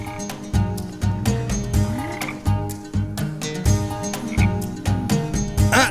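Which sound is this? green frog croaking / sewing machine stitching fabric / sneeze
green frog croaking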